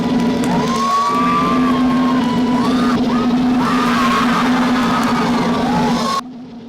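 Large crowd at a competition in Bhutan roaring and whooping loudly as the winner is announced, a dense, sustained wall of yells and shouts that cuts off abruptly at the end.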